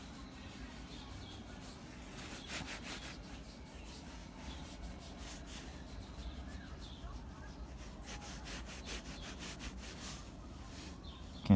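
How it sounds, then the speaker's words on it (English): A cotton ball soaked in acetone is rubbed back and forth on the midsole of a Nike Playoff 12 sneaker, giving quiet, close scratchy strokes in a steady repeating rhythm over a faint background hum. "get a little cotton ball, put some acetone on it, and then rub it on the midsole"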